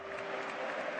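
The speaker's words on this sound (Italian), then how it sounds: "Il pubblico risponde con un applauso" A stadium crowd at the Milan versus Arsenal football match claps steadily, a dense, even wash of applause that fills the whole moment without letup.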